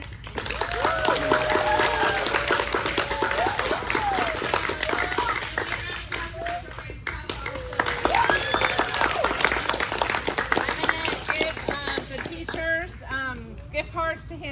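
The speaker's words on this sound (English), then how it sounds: "I want to give a big round of applause to Miss Vega's team members for having the courage to do this." Applause from the audience at a Bible Bee competition, a continuous crackle of hand clapping mixed with children's voices and cheers, steady and fairly loud for the whole stretch, with people talking underneath.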